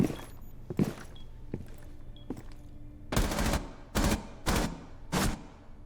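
Gunfire from a first-person shooter video game: a few scattered single shots and thuds, then four loud, close bursts of rapid automatic fire spaced about a second apart, with no talking.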